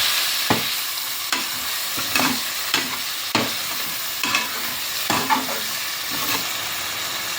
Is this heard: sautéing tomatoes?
yes